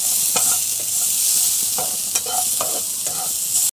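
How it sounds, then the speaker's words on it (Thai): Garlic stir-fried in a pan for pork kimchi, a loud, continuous sizzle broken by repeated scraping strokes of the spatula at close range. "ใส่กระเทียมลงไปผัดนะครับ ผัดให้หอมนะครับ"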